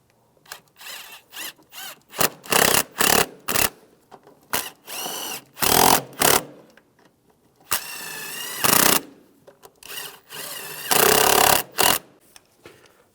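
Throttle body bolts on a 2002-2009 Chevrolet Trailblazer engine are run down with a power tool, heard as many short and long loud whirring bursts with rising pitch, broken by quick taps and pauses, close and with no talking.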